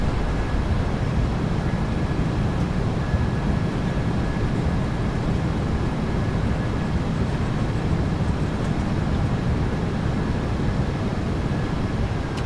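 Thrust reversers deployed on landing on a PMDG 737-800 in the MSFS2024 video game: a loud, steady, broadband engine roar that holds throughout without letting up.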